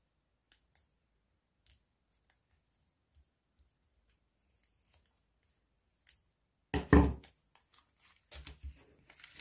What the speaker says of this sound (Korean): 뒤로 뒤집어서 잘라줍니다